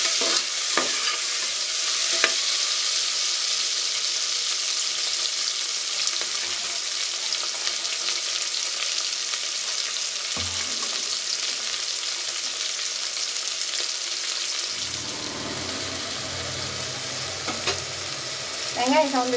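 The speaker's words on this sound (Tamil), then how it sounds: "வெங்காயம் சேர்த்து நல்லா சவ போடுங்க" Onions frying in oil in a pan for tomato rice, a continuous close sizzle with scraping stir strokes, the pan noise shifting near the end.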